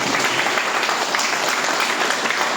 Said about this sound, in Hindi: हम चाहेंगे कि उनके लिए एक जोरदार ताली हो जाए। आशीष कुमार श्रीवास्तव।